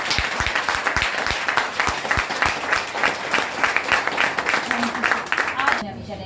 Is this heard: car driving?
no